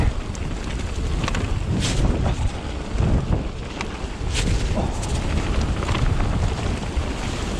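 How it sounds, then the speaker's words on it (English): Strong wind buffets the microphone on a mountain bike trail with jumps in South Wales, a loud continuous roar with gusty swells throughout and no talking. "Where's that wind come from? Oh, getting blown."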